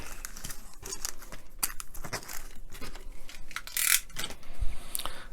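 Screws for an Eaglemoss Ghostbusters Ecto 1 model kit tipped from small plastic packets, with close crinkling of the packaging and a few light metallic clicks and rattles.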